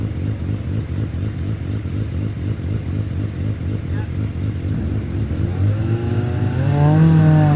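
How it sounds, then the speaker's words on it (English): Hillclimb race car at Loton Park sitting chocked on the start line during a Midland Championship event, engine note steady then revs climbing sharply as it launches away, loud and close, with a commentator talking over it. "Revs rising and away we go."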